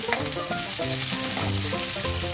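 Broad beans (chikkudukaya) fry in a pan for a tomato curry, giving a continuous, fairly quiet sizzle that holds steady throughout the short stretch.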